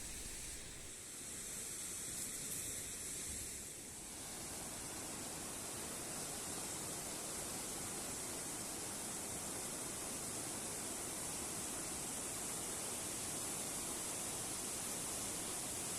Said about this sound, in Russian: Итак, малый водопад.